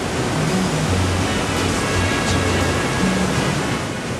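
Water fountains in Tokyo's Ginza district make a constant, dense rushing splash that stays loud and steady throughout, with faint tonal sounds underneath.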